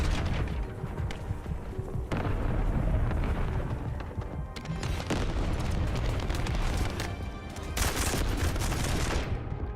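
Sustained gunfire from The First Descendant: dense, rapid automatic bursts and heavy booming impacts that fill the whole stretch loudly, with brief gaps and no voices on top.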